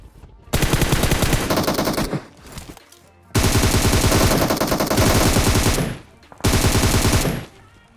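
Automatic gunfire in the PUBG Mobile video game roars in three long, loud sustained bursts, separated by short pauses, while an enemy is knocked down.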